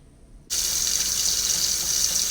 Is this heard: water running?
yes